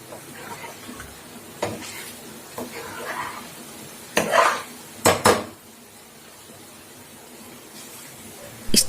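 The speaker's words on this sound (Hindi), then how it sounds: "अब मैं इसको छान लूंगी।" Hot ghee made from cream being strained through a steel wire sieve: a low sizzling hiss with several sharp metallic clanks and scrapes of utensils against the pan and sieve, fairly close.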